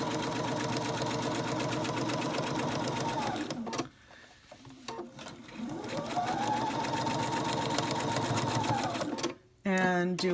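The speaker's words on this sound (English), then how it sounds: "I'm going to do a little back stitch here and sew right along this line." A sewing machine runs steadily, stitching fabric for a Japanese bento bag along a drawn line, with a loud continuous mechanical hum that pauses briefly twice for a short back stitch, close to the microphone.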